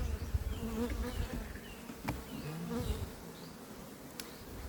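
Bees buzzing at an opened factory-made beehive, a close, continuous droning hum with individual bees passing near, steady throughout with no talk.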